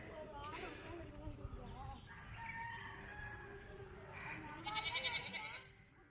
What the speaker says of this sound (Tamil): ஆட்டுக்குட்டியோட அம்மா வேற வந்துட்டு கத்திக்கிட்டே இருந்தது குட்டியை காணாமல்